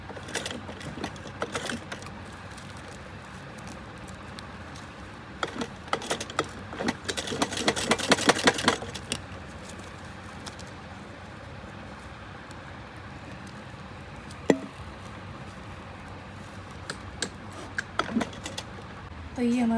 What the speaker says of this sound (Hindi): थोड़ा मोटा कपड़ा होगा तो सिलाई को इस तरीके से चलानी है हमें